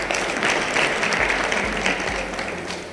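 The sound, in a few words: audience applause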